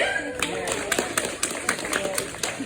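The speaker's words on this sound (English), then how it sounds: "probably not the best round of applause I've ever heard" Thin, scattered clapping from a small audience at a dolphin and seal show, welcoming a 13-year-old male Australian sea lion, with sharp irregular claps under steady crowd chatter.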